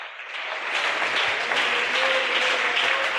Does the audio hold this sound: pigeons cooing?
no